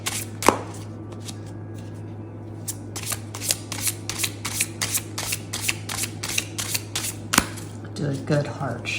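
A deck of tarot cards is riffled and shuffled repeatedly in brisk, crisp bursts close to the mic, with a couple of sharper taps along the way.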